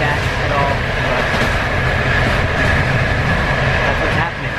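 Loud, steady interior rumble of a moving passenger train, a dense continuous roar with a faint rhythmic clatter throughout, and a voice talking indistinctly underneath.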